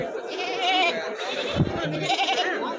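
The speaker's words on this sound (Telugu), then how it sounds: "ఇంకా ఇక్కడ కూడా మేకలు ఉన్నాయి" Goats bleat repeatedly and close by at the Tuesday goat and sheep market in Kadiri, with wavering cries over a busy crowd murmur and some nearby talk.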